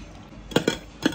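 Creatine powder mixed into a drink, with three quick, bright clinks of a utensil against the container and quiet background in between.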